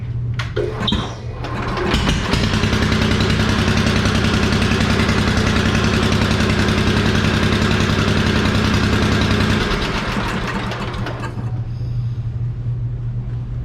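A project vehicle engine, its exhaust setup not yet decided, cranks and catches, then runs at a steady loud idle for about ten seconds before settling to a lower, rougher idle, close by with no talking.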